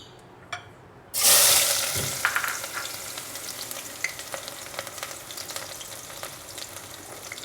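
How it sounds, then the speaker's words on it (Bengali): Chopped onions drop into three to four tablespoons of hot oil in a pot with a sudden loud hiss, then settle into a steady close sizzle with occasional stirring clicks. "তেলটা বেশি গরম ছিল পেঁয়াজটা আমি ভেজে নিব একটু হালকা করে পেঁয়াজটা ভাজব"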